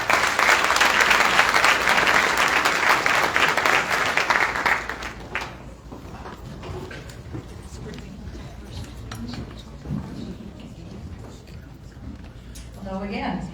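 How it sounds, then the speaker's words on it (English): Loud applause from a crowd at an Urban League luncheon fills the first few seconds, then fades out, leaving quieter room sounds and a voice speaking. "Give her a round of applause."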